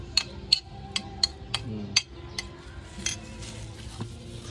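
A utensil stirs a creamy ice cream mixture in a container, making a quick run of bright metallic clinks that slow into softer scraping, close and clear.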